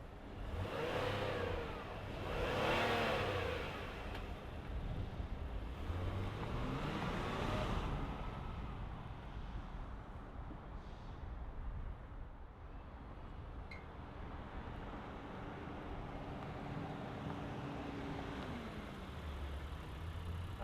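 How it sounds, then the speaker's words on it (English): A 2026 Acura MDX Advance V6 fires up and settles into a steady idle, with a brief rising rev early on, heard from outside the vehicle at moderate level. "let's fire up the V6 and hear what it sounds like"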